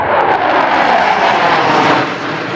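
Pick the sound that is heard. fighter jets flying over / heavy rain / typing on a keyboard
fighter jets flying over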